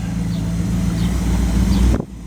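A car engine, from a 1937 Dodge rat rod or 1929 Chrysler, idles and rumbles close by as the vehicle moves, steady and fairly loud, then cuts off abruptly near the end.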